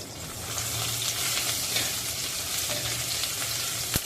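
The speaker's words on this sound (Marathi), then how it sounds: "तेल गरम झालेलं आहे आता आपण त्यामध्ये पाच सहा लसणाच्या पाकळ्या टेचून आणि एक इंच होईल इतकं आलं घालू" Garlic cloves, ginger and green chili frying in hot oil in a pan, a steady close sizzle with a faint clink near the end.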